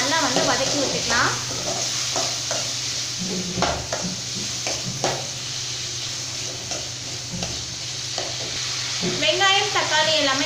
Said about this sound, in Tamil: இப்போ இது எல்லாமே சேர்த்துட்டு நம்ம நல்லா வந்து வதக்கி விட்டுக்கலாம்.